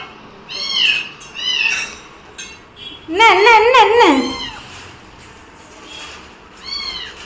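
A house cat meows several times in short rising and falling calls, close by, with a louder run of quick meows in the middle. A person speaks over and between them.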